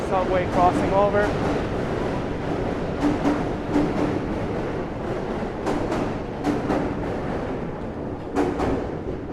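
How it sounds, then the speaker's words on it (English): A subway train rumbles across the Manhattan Bridge on a wet street in Chinatown, a continuous loud metallic roar with squeals and clanks, while someone speaks over it. "Here's the Manhattan Bridge subway crossing over"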